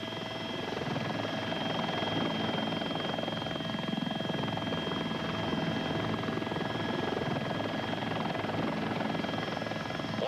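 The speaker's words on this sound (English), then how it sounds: "the helicopter flies very much like an airplane" A helicopter climbs in steady forward flight, its rotor and engine drone continuous and moderately loud with a constant whine, no voices present.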